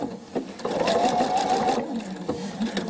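A sewing machine stitching a jersey T-shirt hem, running in a steady whirring burst of a second or so, close and clear, with brief starts and stops around it.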